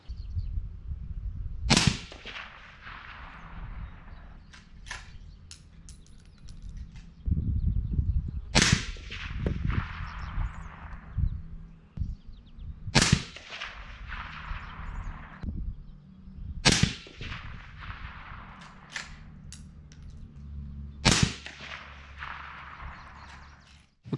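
Rifle shots fired while sighting in a riflescope, five sharp, loud reports spaced about four to five seconds apart, each with a ringing outdoor echo trailing off, over low background rumble.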